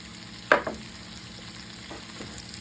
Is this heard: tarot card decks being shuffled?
no